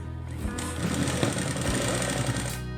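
A sewing machine stitches a plain blouse in one continuous, close, steady mechanical run of needle chatter and motor drone lasting the whole stretch, with no voices over it.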